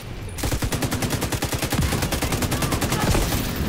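The Pestilence machine gun fires in The Division 2 as a sustained, rapid automatic burst of evenly spaced shots, loud and close, lasting over three seconds after a brief quiet start.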